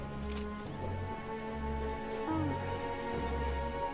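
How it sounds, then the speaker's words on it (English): Steady rain falls in the fantasy RPG Metaphor: ReFantazio, a constant wash of patter over looping low game music and tones, with no voices. "Could it be because it's raining?"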